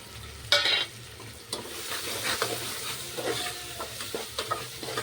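Spices frying in oil while being stirred: a steady close sizzle with repeated scraping stir strokes throughout, and a sharper burst of crackle near the start.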